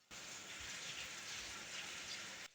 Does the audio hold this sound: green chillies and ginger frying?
no